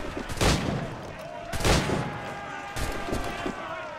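Gunshots in the pirate action game Assassin's Creed IV: three loud, sharp blasts roughly a second apart, each with a booming tail, over faint background ambience and no talk.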